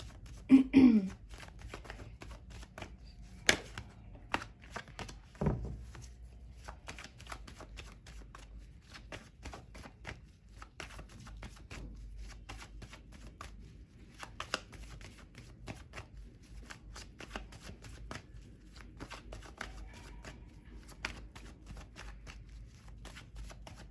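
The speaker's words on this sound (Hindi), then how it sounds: "चलिए मैं कार्ड की शफलिंग करती हूँ" A deck of tarot cards is shuffled over and over at close range, giving a soft, steady, papery riffling and sliding that runs quietly for about twenty-four seconds, with a couple of louder knocks early on.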